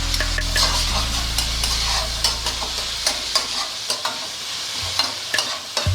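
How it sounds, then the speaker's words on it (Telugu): Boiled cabbage drops into hot frying seasoning with turmeric and is stirred in a pan, bringing a steady sizzle and repeated close spoon scrapes and taps against the metal, loud and with no talking. "ఉడికించుకున్న క్యాబేజీ వేసేసేయండి."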